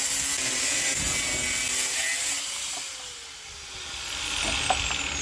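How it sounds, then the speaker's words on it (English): An angle grinder cutting into car body metal, a harsh high whine that dips and swells over a few seconds, fairly close, with no talking. "I found a way to kind of get in there with the grinder"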